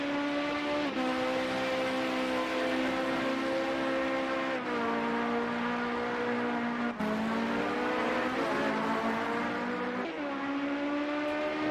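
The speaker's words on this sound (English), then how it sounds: "And here a BMW screaming behind." BMW LMP900 prototype race car in Project Cars 2 at Snetterton, engine screaming at high revs with repeated upshifts and pitch drops, loud and close, running continuously without talk.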